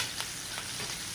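Chopped onions fry in hot oil and are stirred, a steady close sizzle with faint scraping strokes of stirring and no talking.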